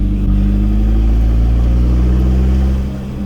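A turbocharged Peugeot 206 engine drones loudly up close as the throttle is held on, a steady mid-pitched rumble that fades slightly at the end.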